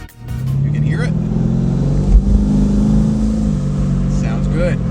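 A twin turbo Chevrolet Camaro ZL1 engine drones and rises in a steady rev from inside the car while driving, loud and close, with a brief surge partway through.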